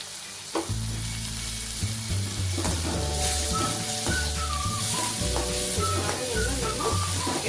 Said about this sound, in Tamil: இப்போ தக்காளி, கருவேப்பிலை, கொத்தமல்லி, பச்சை மிளகாய் எல்லாம் போட்டு வதக்க போகிறோம்.